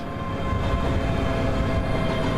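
A passenger train on the Glasgow–Dunblane line brakes as it slows to a stop. Its steady, loud rumble and wheel noise fill the clip without a break, and no voices are heard.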